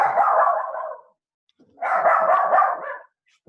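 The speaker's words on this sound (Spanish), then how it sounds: "Mi perrito escuchó el ladrido y está ladrando" A small pet dog barks in two loud, close bursts of rapid yips, separated by a short pause of silence.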